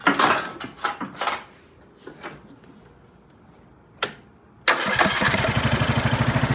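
A 2003 Craftsman LT2000 lawn tractor's Briggs and Stratton engine, started without choke, gives a few close sputtering cranks, then catches and settles into a loud, steady, pulsing run.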